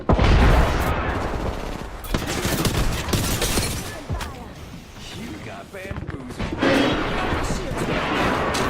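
Rapid bursts of gunfire and impacts crackle in an Apex Legends match, loud and dense at first, then thinning into scattered shots, with voices speaking over the action.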